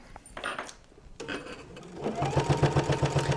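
Sewing machine stitching fabric around a notebook holder, starting with a few short bursts and handling noises, then a steady run of rapid close-up stitches.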